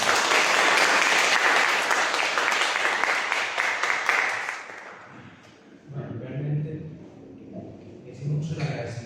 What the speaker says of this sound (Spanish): para que me pida un aplauso, por favor,